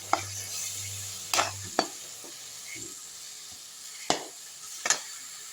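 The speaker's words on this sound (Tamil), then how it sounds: "இப்போ இந்த ரெண்டு முட்டை எடுத்து ஊற்றிக்கலாம் நல்லா வதக்கி விட்டுடலாம்" Two eggs stir-fried with drumstick flowers into a scrambled podimas make a soft sizzle. Sharp spatula knocks and scrapes against the pan come at irregular moments, and a low hum sits under the opening second.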